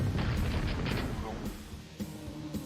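Lava nails from the super nail gun in Quake's Dissolution of Eternity expansion, a dense, continuous stream of booming impacts and bursts that blur into a rumbling barrage with no pauses.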